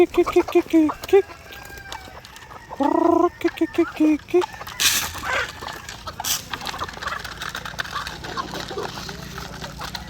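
Free-range chickens cluck and call in a short burst near the start, followed by scattered knocks and rustling under a faint background of voices.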